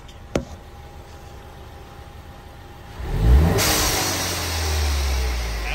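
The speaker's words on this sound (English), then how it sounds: "So I'm gonna go ahead and rev it" A 2016 Ford Mustang turbo engine sits quiet, then gets revved hard, with a surging rise in roar that holds loud and steady. A single sharp click sounds near the start.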